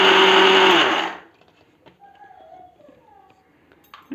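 A mixer grinder whirs loudly as it grinds flax seeds, a steady high buzzing motor sound for about a second before cutting off, leaving quiet kitchen clatter afterward.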